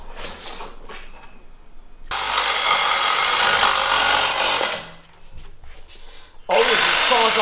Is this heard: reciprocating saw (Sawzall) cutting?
yes